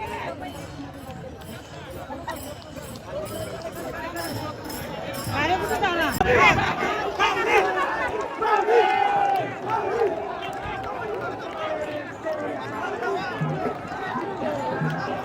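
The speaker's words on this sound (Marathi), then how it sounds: "रथ आलेला आहे बघा आणि रथाजवळ गर्दी" Dense crowd of pilgrims pressing around a chariot during the Wari procession to Pandharpur, a continuous babble of many voices with shouts rising in the middle, steady and close throughout.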